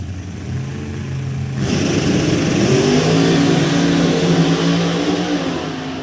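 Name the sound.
supercharged drag racing cars launching and accelerating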